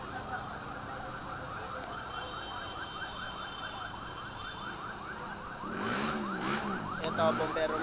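A wailing fire truck siren cycles steadily up and down in the distance during a fire at SM Taguig, joined near the end by a second, louder rising-and-falling siren drawing closer.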